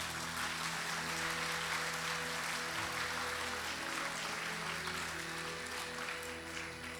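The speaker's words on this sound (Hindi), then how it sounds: "उसके लिए भी जोरदार हम चाहते हैं, ताली बजनी चाहिए।" Steady, dense applause from a large crowd at an Independence Day 2024 gathering, sustained throughout without a break, with no one speaking over it.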